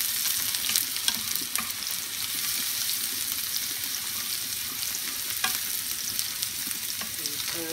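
Garlic stir-fried in a hot pan for Thai kra-phow beef: a loud, continuous sizzle with intermittent scraping and clacks as it is stirred, no voices.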